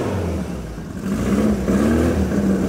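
A Volkswagen Beetle (Fusca) engine idles and rises in revs, a steady close air-cooled rumble with pitch swells, no talking over it.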